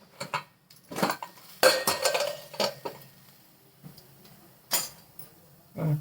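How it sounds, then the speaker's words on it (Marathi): Metal clanks and scrapes of a pressure cooker lid being handled and opened after cooking sweet potatoes, with scattered clinks and pauses in a quiet room. "कुकर खोलून घेऊ बघा आता"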